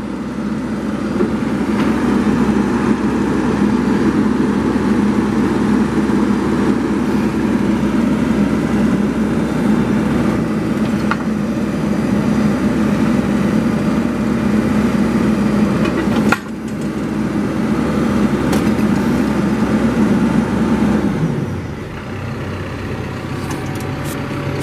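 A 2014 Caterpillar 420F IT backhoe loader runs steadily with a loud, continuous diesel drone, one sharp clunk partway through, and the engine note dropping lower near the end as it shifts between forward and reverse.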